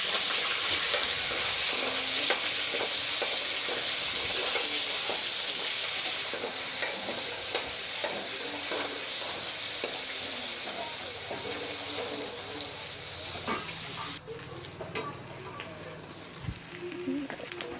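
Bay leaves, carrot and chicken frying in hot oil in a pan for chicken masala, a steady close sizzle with occasional light scraping stirs, continuous throughout with a brief shift in tone near the end.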